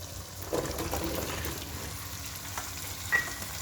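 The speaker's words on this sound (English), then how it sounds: "now we can add our eddoe in" Eddoe going into cooked masala in a pot and being stirred, a soft sizzle under several muffled scraping strokes, fairly quiet and close.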